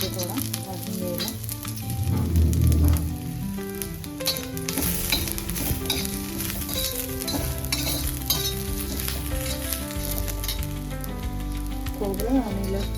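Garam masala roasts in a hot pan for a drumstick fry, a continuous sizzle and occasional stirring scrapes running under prominent background music.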